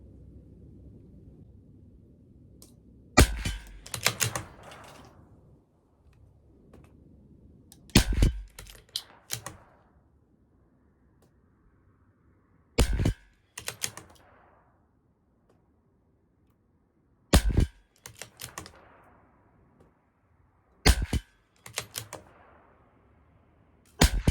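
A CZ 457 LRP rimfire rifle fires a 10-shot group at a 50-yard target: sharp, loud single cracks spaced several seconds apart, each followed by a short clatter of bolt cycling, with quiet between shots.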